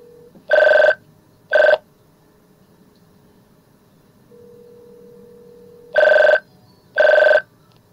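A telephone rings in four short electronic bursts, two close together, then a pause, then two more, each cutting off after under a second against a faint hum.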